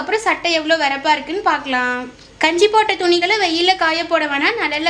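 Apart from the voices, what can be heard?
No everyday noises stand out.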